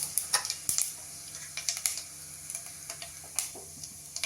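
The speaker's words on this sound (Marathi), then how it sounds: "तेल गरम झालं आहे आता त्यामध्ये जिरं घालूया" Cumin seeds crackle in hot oil for a nutritious ragi soup, a faint sizzle dotted with quick, irregular sharp pops close by.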